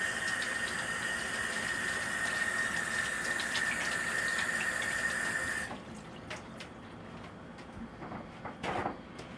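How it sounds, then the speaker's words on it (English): Hands being washed under a running kitchen tap, a steady close stream of water that stops partway through, followed by faint drips and small handling sounds. "So first things first, I'm going to wash my hands."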